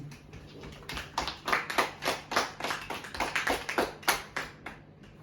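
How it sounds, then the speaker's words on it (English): Wedding guests give a round of applause, a small, sparse group of distinct hand claps in quick irregular succession, close and fairly quiet, with a low steady hum underneath and no talk. "Can we please give them a round of applause?"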